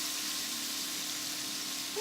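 Pasta frying in a pan with bacon fat for carbonara, giving a steady, even sizzle that holds throughout at moderate level, with no talk over it.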